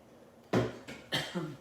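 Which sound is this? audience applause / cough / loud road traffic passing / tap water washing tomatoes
cough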